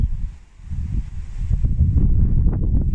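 Wind blowing over a lake shore where someone is fishing, a steady low rumble of gusts buffeting the microphone that strengthens partway through, with no talk.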